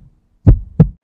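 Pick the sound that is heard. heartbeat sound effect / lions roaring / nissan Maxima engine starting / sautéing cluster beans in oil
heartbeat sound effect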